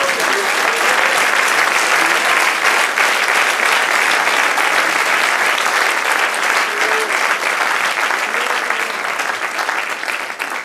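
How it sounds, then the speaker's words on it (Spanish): Sustained, dense applause from a church congregation fills the room at steady volume for the whole stretch, loud and close with no break. "Den un aplauso al Señor."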